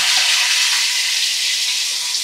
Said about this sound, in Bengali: আর এই একই তেলের মধ্যে আমি হলুদ নুন মাখানো মাছ দিয়ে দিচ্ছি।